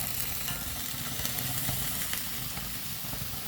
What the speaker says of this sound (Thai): ไปใส่คะน้าครับคะน้าลงไปผัด